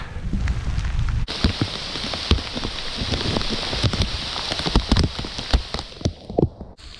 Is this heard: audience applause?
no